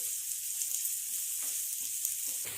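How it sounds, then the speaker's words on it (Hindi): Finely chopped onion sautés in a pan, a steady soft sizzle of frying with light crackles and faint stirring, close and continuous with no talking. "प्याज को कुछ देर के लिए हम सौते करेंगे।"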